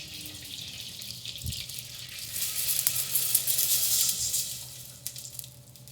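Water poured into a pot of half-melted butter sets off a broad hiss and sizzle that builds and holds, then fades at the end, with faint clinks close by.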